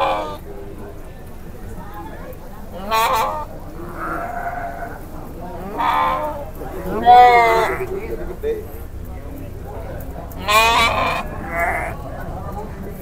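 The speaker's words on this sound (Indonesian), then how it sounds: "Suasana pasar domba batu jajar Tepat pukul 9 ya seperti ini suasananya" Sheep bleat repeatedly at the Batu Jajar sheep market, where Garut and Priangan sheep are traded. Loud, wavering calls come in several separate bursts over steady crowd murmur and low background noise.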